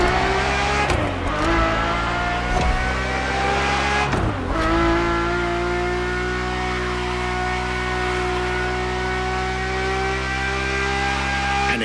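A race car with a carbon fiber monocoque chassis revs hard in The Crew Motorfest, a loud, sustained engine drone with two sharp throttle blips early on before it settles into a steady high roar.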